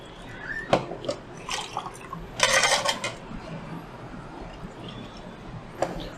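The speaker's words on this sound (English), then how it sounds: "pour some water back to the stainless steel tank to get up all the powder" Water is poured into a stainless steel tank to rinse down monobath developer powder, making irregular splashes and sharp metallic clinks in short bursts over a low background wash.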